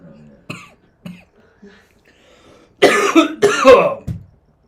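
A couple of loud, harsh coughs close up, preceded by a few faint clicks and small sounds in an otherwise quiet room.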